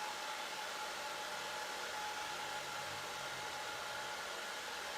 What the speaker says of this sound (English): I switch the blow dryer to cool air and keep twisting with the sponge to form sponge dreads